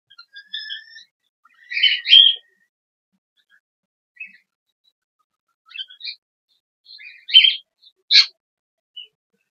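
Cockatiels chirp while feeding on egg and rice mixed with a deworming medicine, giving short, bright, scattered calls with quiet gaps between them, fairly close and alone without talk.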